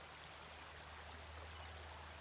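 Steady rushing of a flowing river, an even broadband wash of water with a low rumble underneath, continuous and moderately distant, with no voices over it.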